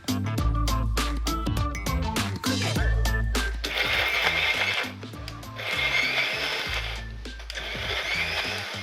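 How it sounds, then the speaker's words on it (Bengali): A blender whirs steadily as it purées a boiled potato, a loud continuous motor drone with changing pitch and some clattering as the contents churn, running throughout. "আমি এখানে একটা আলু দিচ্ছি। এখন আমি এটাকে ব্লেন্ড করে নিই।"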